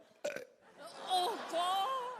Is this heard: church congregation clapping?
no